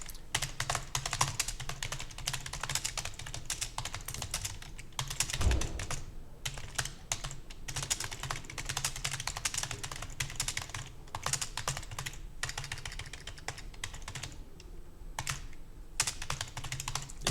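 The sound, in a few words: typing on a computer keyboard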